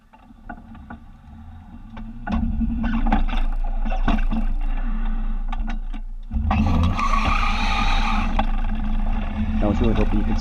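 Converted Honda E electric car pulling away hard, with a low rumble and rushing road and tire noise that swells mid-clip and stays loud to the end.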